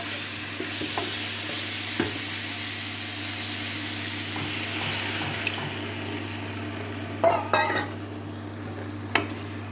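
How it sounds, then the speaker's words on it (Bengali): Spice-coated snakehead fish sizzles steadily in a pan as it is stirred, with a constant low hum in the background and a few louder clanks of a utensil against the pan near the end. "মাছ ভাজবো না, একটুখানি জাস্ট নাড়িয়ে নেব"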